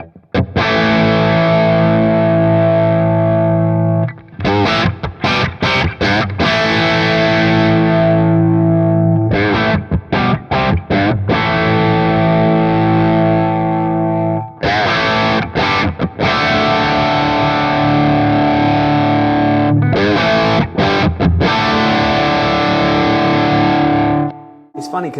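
An electric guitar runs through a REVV Tilt overdrive pedal, giving a thick, driven tone. Loud sustained chords and choppy strummed bursts repeat with brief gaps, played alone without talk.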